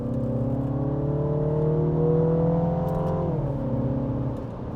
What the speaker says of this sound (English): give it a downshift